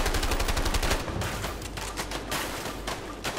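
Rapid gunfire rattles in the video game A Way Out, dense bursts of shots crackling loudly and continuously, slightly easing after the first second but keeping a fast, steady rhythm.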